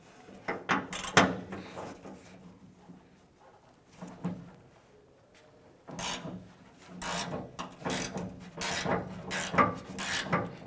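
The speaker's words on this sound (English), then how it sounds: "Using a 10mm socket, we're going to go ahead and remove the 2 nuts on either side of the handle." A 10mm socket ratchet works loose the nuts holding the tailgate handle on a 1993-1997 Ford Ranger. Close, dry ratcheting clicks and rasping turns come in irregular bursts with short pauses, and no voice is heard.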